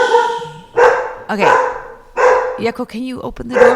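Pet dog barking indoors in a few short, close barks mixed in with a person talking nearby.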